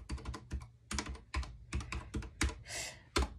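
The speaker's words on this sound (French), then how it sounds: "je tape le code barre" A barcode number keyed in on a computer keyboard in a mock stationery-shop checkout: quick, close, soft clacks in small bursts of keystrokes with brief pauses between them.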